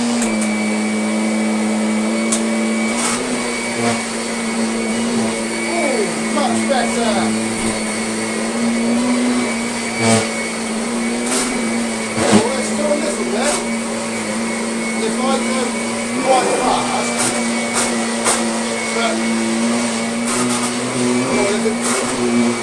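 Kirby Sentria 2 vacuum cleaner, freshly fitted with a new drive belt, drones loudly and steadily on a rug, with occasional clicks and bumps as it is pushed and a voice speaking over it.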